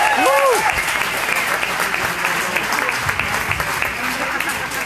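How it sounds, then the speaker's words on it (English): Loud, dense crowd applause at a political rally in Roanoke fills the whole stretch, steady and sustained, with a brief voice or cheer rising over it near the start. "give it up for Jennifer Lewis"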